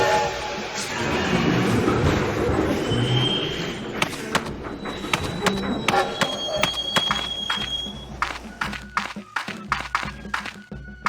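Toy Union Pacific locomotive in a Lionel Trains video game, a steady rolling rumble giving way to sharp clanking clicks and brief tonal whistle-like tones, fairly loud and continuous with no talk.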